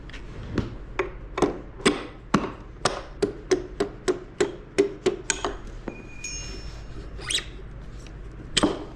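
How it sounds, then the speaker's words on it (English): A tool is tapped into the front end of a 2023 Talaria Sting R (MX4) electric motorbike during assembly, giving a close, steady series of about fifteen sharp metallic knocks, then a few scattered clinks and handling sounds. "Take your extension, put it in there, hit it gently."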